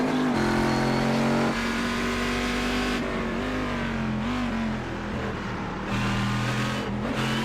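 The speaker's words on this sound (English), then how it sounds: "I'm loving the sound of the new Corvette." A Corvette race car in a GT racing simulator game at Laguna Seca, its engine droning steadily close up with pitch rising and dipping through gear changes and throttle lifts, running continuously throughout.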